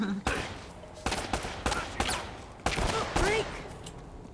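Bursts of gunfire from Uncharted: Drake's Fortune, several sharp volleys spaced across the moment, loud and close, mixed with game voices and chatter.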